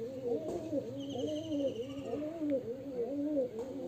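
A biscuit-coloured female pigeon coos in a steady run of rolling, repeated calls, close and clear, with no talk over it.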